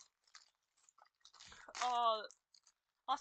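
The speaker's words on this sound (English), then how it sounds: "if you hear me like chewing, just keep in mind I'm eating vanilla wafers" Crunchy chewing of vanilla wafers, close to the mic: a few faint crisp bites and clicks amid quiet pauses, with a brief voiced sound in the middle.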